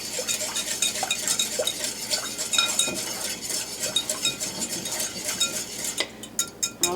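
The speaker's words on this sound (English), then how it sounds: "Just whisk it to a really nice consistency where everything is blended." A whisk or utensil clinks and scrapes against a bowl while a coleslaw dressing is blended, a quick, uneven stirring rattle at close range, with sharper taps near the end.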